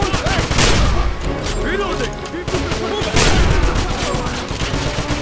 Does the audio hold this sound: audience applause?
no